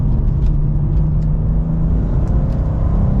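A 2024 BMW M2 with a six-speed manual pulls hard under acceleration from inside the car, a loud continuous low engine rumble and drone with faint ticks above it.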